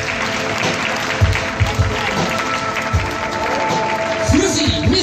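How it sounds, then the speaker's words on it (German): An audience inside a circus tent in Leonberg gives steady applause, a dense wash of clapping with a few louder thumps, while an announcer's voice carries over it. "Aus Lettland mit einem kräftigen Applaus."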